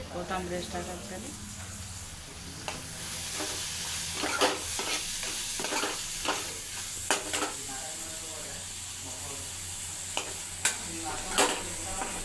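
Tempering sizzling and crackling in a hot pan while Alu Puri is cooked, a steady frying hiss with sharp pops and spatters bursting through; a voice talks over it in places.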